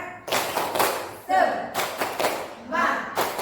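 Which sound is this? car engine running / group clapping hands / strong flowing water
group clapping hands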